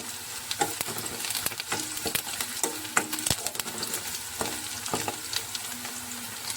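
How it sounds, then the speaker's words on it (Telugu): Curry leaves dropped into browned onions sizzle steadily in a pan with a mutton curry on the way, crackling bursts and a few sharp stirring scrapes over the constant frying hiss. "ఉల్లిపాయలు అయితే వేగిపోయాయి ఇప్పుడు ఇందులో కొంచెం అయితే కరివేపాకు అయితే వేస్తున్నాను"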